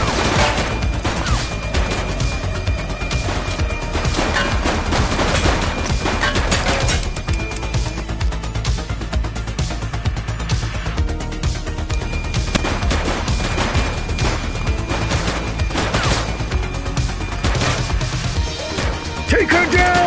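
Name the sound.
gunfire in the video game The Precinct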